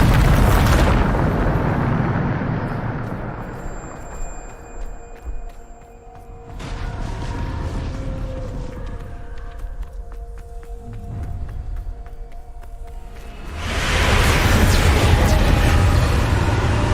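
Bombarda explosion spells going off in Hogwarts Legacy: a loud deep blast that fades into rumbling debris and magical shimmer, then another heavy explosion near the end, with no talk.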